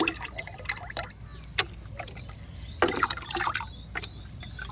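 Soaked neem cake solution poured into a fertilizer mix, a liquid splashing and trickling in short uneven bursts with drips between, close and fairly faint, no talking.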